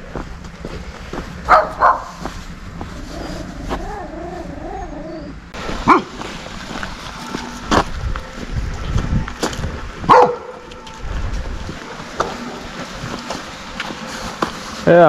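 Guarding dogs bark and yip in short repeated bursts across a calm outdoor yard, with some whimpering, voices speaking faintly underneath.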